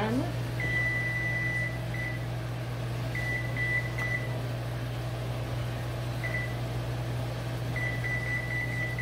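Kitchen timer beeping in repeated short high tones over a steady humming oven or fan drone, several bursts spread across the span.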